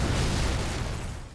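Deep, rumbling explosions from tank combat in Halo 3 on the Sand Trap map, a dense continuous wall of booming blasts with no clear gaps, loud throughout and fading slightly at the end.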